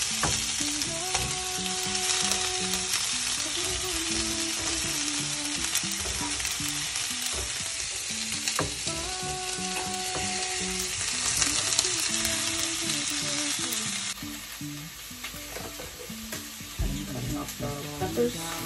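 A large batch of onions fries and reduces in a pan, a continuous busy sizzle with spatula scrapes and stirring, somewhat distant with faint background music underneath.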